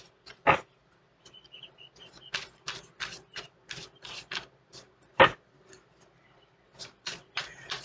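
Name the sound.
shuffling tarot cards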